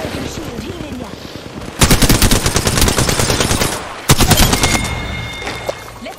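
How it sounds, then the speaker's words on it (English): Rapid automatic gunfire in Apex Legends, loud bursts of fast repeated shots with a sharp second volley, over game effects and background noise. "I'm getting shot at"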